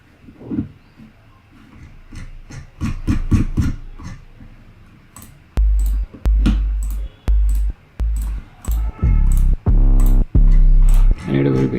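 Basic kick drum built in Ableton Wavetable joins a synth bass line, the deep thumping kicks landing in a steady beat through the second half, loud and close, after a stretch of plucky synth notes.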